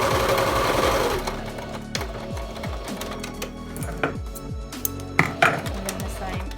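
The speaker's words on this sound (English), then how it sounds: "run the stitch along just to secure the raw side" Sewing machine stitching along the raw edge of a fabric face mask, a steady close mechanical whir with a fast needle rhythm, slowing into separate thumps and clunks toward the end.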